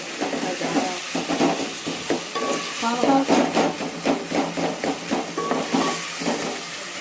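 Onions sauté in a pan for a prawn and cowpea curry, giving a steady sizzle broken by repeated scraping and knocking strokes of a stirring spoon, fairly close and continuous throughout.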